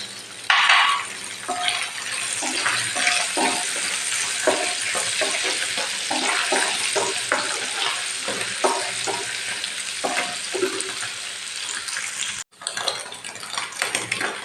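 Colour capsicum pulao ingredients fry in a pan, a loud, close sizzle with busy stirring, metallic spatula clinks and scraping that continue throughout, with a brief break near the end.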